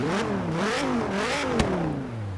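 A Dodge Viper ACR engine in Forza Horizon 3 revs up and down in rising and falling sweeps, loud and close, with a sharp click partway through.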